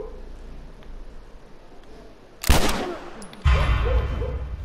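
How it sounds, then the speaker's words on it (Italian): Gunfire from The Last of Us: after quiet ambience, a sudden loud burst of shots at about the halfway mark, then another sharp volley that carries on to the end, close and heavy. "come sparo io da dietro la staccionata sparano anche loro"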